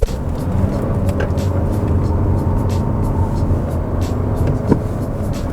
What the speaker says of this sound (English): This is so easy to drive fast in corners.